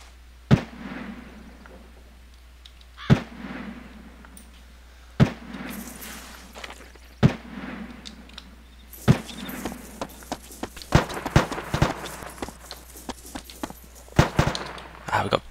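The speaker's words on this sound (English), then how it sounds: "to say I am pinned down inside the shops, I think is an understatement the amount of shooting that's going on" Rapid video-game gunfire in a DayZ-style survival game, sharp bursts at first spaced a few seconds apart, then a dense flurry of overlapping shots, some near and loud, others softer and farther away.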